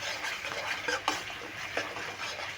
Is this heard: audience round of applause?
no